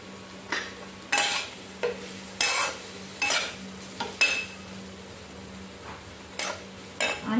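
Amaranth stems being mixed with salt and masala in a pan: a dozen or so sharp scraping stirs of a utensil, close and distinct, in an uneven rhythm over a low background hum.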